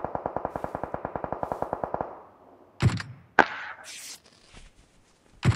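Gunfire in PUBG starts as a quick, regular string of shots, then gives way to a few loud, separate single shots with echoing tails and pauses between them.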